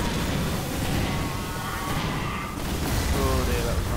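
Continuous rumbling blasts and booms in the video game Alien Swarm, loud and dense, with a voice talking over the din.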